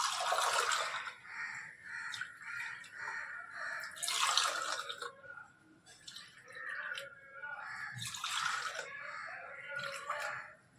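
Hot drinking water is poured back and forth between vessels to cool it, making rhythmic splashing pours in repeated bursts with short quieter gaps, close and fairly loud.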